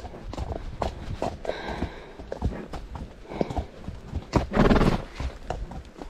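A horse trots with close, loud hooves clip-clopping in a steady rhythm, and a whinny rises near the end.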